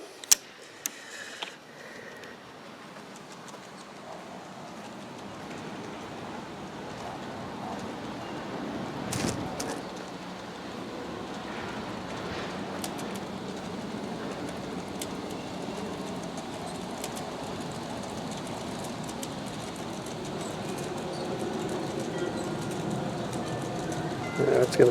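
A G scale model Napa Valley Wine Train with three-axle trucks runs along an outdoor garden track, giving a steady rolling rumble and clatter that builds gradually across the clip, with a sharp click near the start.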